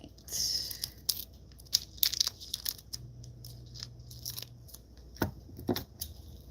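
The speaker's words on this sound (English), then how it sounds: "Going to cut it down." Scissors snip and crunch through material being cut to size for an apothecary jar, with a run of short, close, quiet cutting sounds and faint rustling in between.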